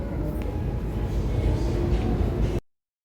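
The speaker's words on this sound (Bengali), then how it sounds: "12885 আরণ্যক এক্সপ্রেস চলে এসেছে।" The 12885 Aranyak Express rolls at a station near Bishnupur, a loud, steady low rumble with rattling carriages that cuts off abruptly.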